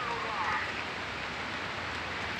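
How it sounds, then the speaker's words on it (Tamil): Heavy rain in a Tamil village, falling onto plants and a rooftop terrace as a dense, loud, continuous hiss and patter with no breaks. "பார்த்தீங்களா ஃப்ரெண்ட்ஸ், எங்கள் ஊரில் எவ்வளோ மழை பெய்யுதுன்னு."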